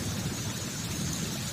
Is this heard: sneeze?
no